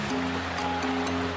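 Steady broadband rush of water at Hosadevata waterfalls near Gokarna, a continuous close roar with no other sounds.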